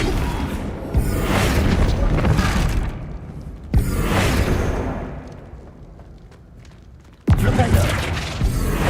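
Spell effects from Hogwarts Legacy, with three loud, sudden magical blasts spaced a few seconds apart, each fading into a rumbling tail, and no talk.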